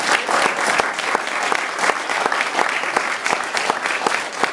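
An audience applauds at a campaign kickoff speech, steady, dense clapping that stays loud and even throughout with no talking over it.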